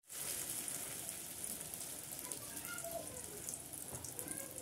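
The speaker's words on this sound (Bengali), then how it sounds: "বেগুনি করা হচ্ছে, দেখতে পাচ্ছেন।" Eggplant fritters (beguni) deep-frying in oil, with a faint but dense, continuous bubbling hiss that starts abruptly and holds steady to the end.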